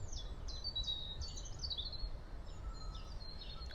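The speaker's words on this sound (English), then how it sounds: "Listening to birds." Birds sing and chirp outdoors in fresh spring air, a series of faint, bright calls and trills repeating from some distance over a soft background hush.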